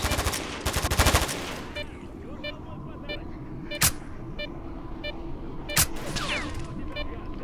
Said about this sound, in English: Random gunshots.